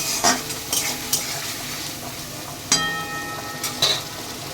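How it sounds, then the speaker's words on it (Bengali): Onions frying and being stirred in a pan for a papaya and potato curry, a steady close sizzle broken by several sharp scrapes of a spoon against the pan, with no voices. "পেঁয়াজটা দেখুন আমার ভাজা ভাজা হয়ে গেছে"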